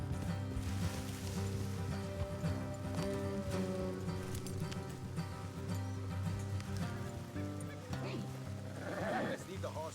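Horse hooves clip-clop steadily in Red Dead Redemption 2 under a droning musical background, with a voice speaking briefly near the end.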